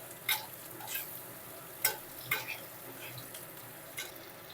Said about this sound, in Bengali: এই সেই মতনই ঢেঁড়সটা ভেজে নিতে হবে